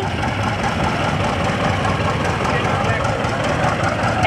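A John Deere Diesel 80 antique tractor engine runs steadily at an outdoor parade, a dense, continuous low rumble with a knocking character that holds at an even loudness throughout.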